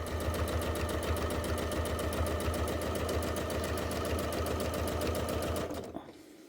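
A sewing machine stitches an appliqué outline with a fast, steady mechanical rattle of evenly spaced needle strokes, loud and close, running for about six seconds before stopping abruptly.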